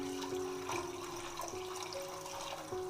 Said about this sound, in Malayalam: ഇനി ഇതിലേക്ക് നമുക്ക് റൈസ് കുക്ക് ചെയ്യുന്നതിന് ആവശ്യമായിട്ടുള്ള വെള്ളം ഒഴിച്ചു കൊടുക്കാം.